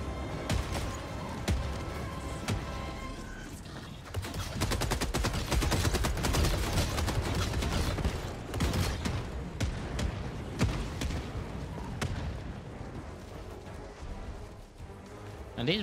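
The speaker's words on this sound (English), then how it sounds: "And these mortars are just destroying them." Mortar strikes in Helldivers 2 pounding during a defence mission, a dense barrage of booming impacts and crackling gunfire that swells louder midway and keeps hammering with hardly a gap.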